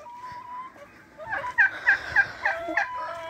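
Backyard coop chickens, including an old black hen and roosters, giving a run of loud, rhythmic gobbling, clucking calls, about five sharp bursts in quick succession after a quieter start, close by.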